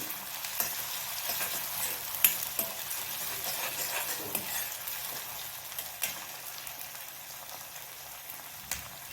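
Ginger-garlic paste for palak paneer fries in a pan with a steady, soft sizzle, punctuated by light clicks and scrapes of stirring.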